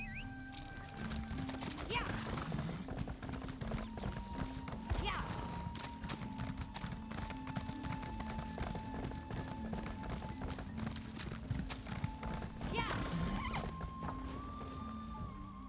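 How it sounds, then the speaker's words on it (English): Horse hooves clip-clop steadily in the Elder Scrolls Online video game, a continuous trotting rhythm over a busy bed of game music and ambience. "Oh, I was already on a horse."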